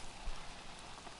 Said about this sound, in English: Shit, fuck this rain.